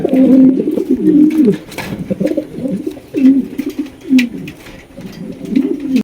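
A pigeon coos repeatedly at close range, soft throaty rolling calls in a steady rhythm, with faint background noise.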